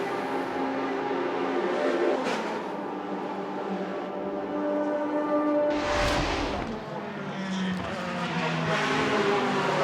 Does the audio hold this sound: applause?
no